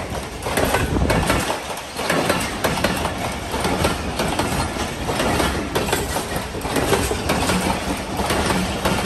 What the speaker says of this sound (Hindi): बारिश चल रही है, रेलगाड़ी भी चल रही है।